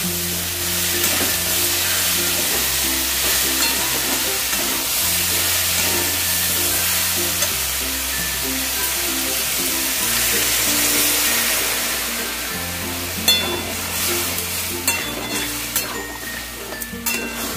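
Shukto vegetables sizzle steadily in a hot pan as water is poured in, a continuous broadband hiss with a few sharper crackles near the end, running under background music.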